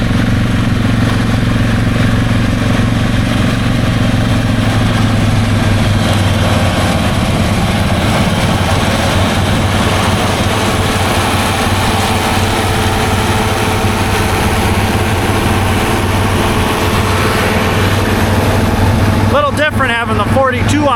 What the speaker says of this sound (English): Dad is actually cutting hay.